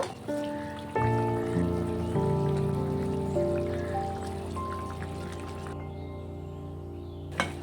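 A pot of thin rohu fish curry with potato and eggplant simmers and bubbles steadily, a dense, continuous watery crackle close by with a low hum underneath and no voices.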